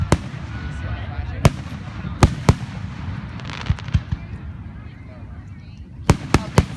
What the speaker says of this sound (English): there's more fireworks behind us.